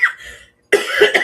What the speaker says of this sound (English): I'm coughing it out, but it's still a pain in the butt.